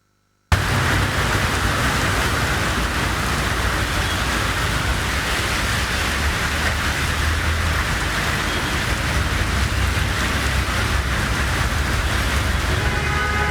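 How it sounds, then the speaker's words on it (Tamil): Heavy monsoon-type rain pours down steadily and densely, a loud continuous wash of drops with no pauses, starting abruptly after a short silence and holding even throughout with no voices. "பல பகுதிகளிலும் மழை வெளுத்து வாங்கியது"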